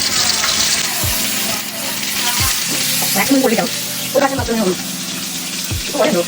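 Chicken pieces sizzle steadily in hot oil, a loud continuous crackle with a few sharp clatters and stirring knocks as more pieces are laid into the pan.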